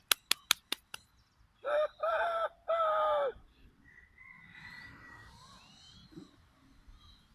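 A rooster crows in several strong, drawn-out calls after a few sharp clicks at the start, followed by quieter, more distant bird sounds.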